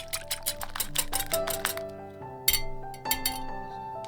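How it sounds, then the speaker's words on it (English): Egg white is whisked briskly in a glass bowl, producing a quick run of bright clinks and rattles against the glass with ringing tones in between, close and alone. "Whisk the egg white until it's nice and frothy."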